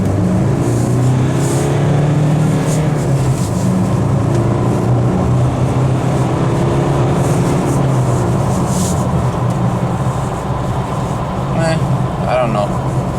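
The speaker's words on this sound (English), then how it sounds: "I'll put full throttle and see how this accelerates" A diesel car engine drones steadily under full-throttle acceleration in second gear, a loud continuous rumble with rising hum, with someone talking over it.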